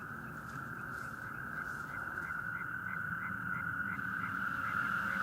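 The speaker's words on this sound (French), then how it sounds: "on a un fond sonore avec des crapauds calamites qui doivent être à 200 ou 300 mètres d'ici" Natterjack toads call in a steady, continuous chorus 200 to 300 metres off on a night, with a repeated pulsed call running over the top and a constant low rumble beneath.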